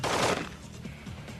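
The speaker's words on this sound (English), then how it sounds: "a burst of M16 rounds from 45 degrees was also unable to penetrate the brick exterior wall" A burst of M16 rifle rounds strikes a brick exterior wall during urban combat training, a rapid crackling volley at the start that tails off into rolling echoes, heard at a moderate distance.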